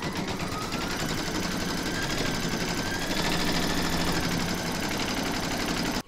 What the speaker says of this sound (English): you're going to pop your hoop into your machine and stitch round number one, and that's going to do the placement outline